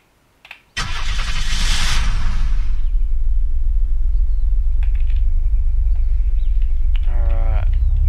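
A car in the video game Unturned starts up with a loud cranking burst, then settles into a steady, loud engine idle that runs to the end, with a brief rising whine near the close.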